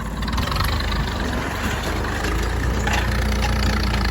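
A tractor engine idles on a farm during maize harvesting, a steady low rumble with a constant mechanical hum running evenly throughout, close and fairly loud, no speech.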